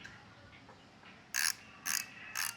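Three short bursts of ratchet clicking come from tightening accessory bolts on a Royal Enfield Himalayan 452 motorcycle. The clicks are close and crisp against a faint background.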